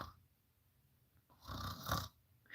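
A person imitates snoring with a single raspy, breathy snore sound that swells and fades, quiet and close to the microphone after a faint lead-in.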